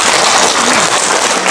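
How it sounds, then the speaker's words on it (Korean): Dense, loud applause from an audience in a district office auditorium during a lecture, steady clapping throughout the brief moment with no clear speech. "공기한테 박수 한번 줘봐"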